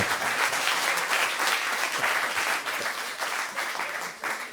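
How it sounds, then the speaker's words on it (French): An audience applauds at a Saint-Roch patron saint celebration, a thick continuous patter of many hands, loud and steady, easing slightly toward the end. "on peut applaudir évidemment notre saint patron, Saint-Roch."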